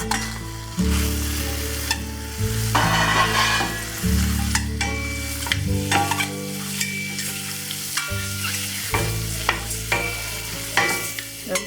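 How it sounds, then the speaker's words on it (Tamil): Boiled eggs frying in oil in a pan for an egg gravy, with steady sizzling and repeated stirring scrapes across the whole stretch, close and fairly loud, with no talk. "இப்போ இதை ஒரு 2-3 நிமிஷத்துக்கு ஃப்ரை பண்ணியாச்சு."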